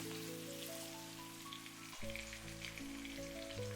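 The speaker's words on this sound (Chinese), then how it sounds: "快速翻炒均勻，把調味料炒至化開，把茄子充分的炒至入味" Eggplant stir-fried with seasoning in a hot wok, a steady crackling sizzle, then a fuller burst of frying noise partway through as the pieces are tossed; music plays underneath throughout.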